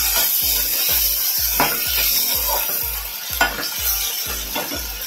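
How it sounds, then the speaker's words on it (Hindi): Chopped tomatoes fry with onions in a pan for anda bhurji, with a constant close sizzle and about a dozen evenly spaced spoon strokes knocking against the pan, and no talking. "अब इसमें मैं डाल दूंगी कटे हुए टमाटर जो मैंने अच्छी तरह से धो के काट के रख लिए हैं।"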